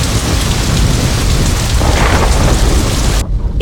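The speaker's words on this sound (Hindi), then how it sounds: "बारिश हो रही है" Heavy rain pours steadily on surfaces while thunder rumbles low underneath, a dense loud continuous roar that drops away abruptly near the end.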